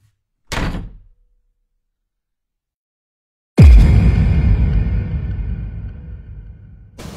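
A room door being pushed open: a short thud, then a pause, then a loud, close bang with a long, rattling, reverberant tail that slowly fades, with no voices.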